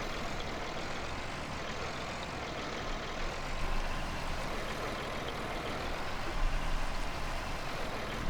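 Massey Ferguson MF20 two-wheel-drive tractor in Vintage Survival runs with a steady, continuous engine drone at close range, a broadband rumble holding even loudness throughout with slight swells, no talk over it.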